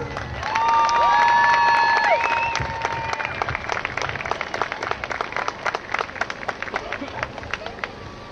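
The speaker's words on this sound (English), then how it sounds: "Please give them a round of applause." A crowd claps for youth softball teams at the Manteca Softball Association opening day ceremony, an outdoor field event; the applause is loud at first, then thins into scattered claps, with chatter and a few whistle-like calls on top.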